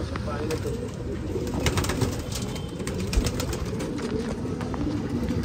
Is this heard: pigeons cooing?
yes